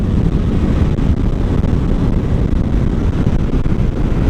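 Constant loud, buffeting wind roar hits the rider of a motorcycle at high speed, a dense rumbling rush that fills the whole stretch without a break.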